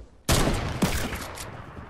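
Rapid gunfire in a Fortnite match erupts suddenly and loud, a dense burst followed by a second sharp volley, sustained and close with no talk over it.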